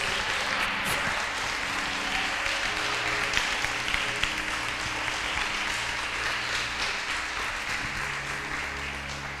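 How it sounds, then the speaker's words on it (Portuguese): A church congregation applauding during a service, a long sustained roar of clapping hands with steady low hum from the room beneath, continuous and fairly loud throughout. "Será que você pode aplaudir o nome de Jesus?"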